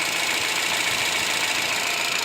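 A Holden Cruze engine idles steadily after a heater hose repair, a constant broadband hum and whir with no breaks, fairly loud and close, no voices.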